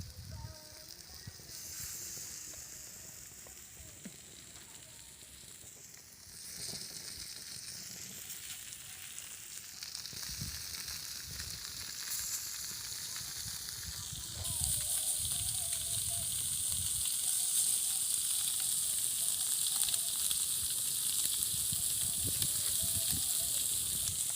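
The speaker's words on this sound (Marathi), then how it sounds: "तर आता हे राहिलेले पण लगेच तळायला टाकणार आहोत" Steady, continuous sizzling of tilapia fish pieces frying in hot oil on a flat pan, growing louder and brighter about halfway through, with faint clinks in the background.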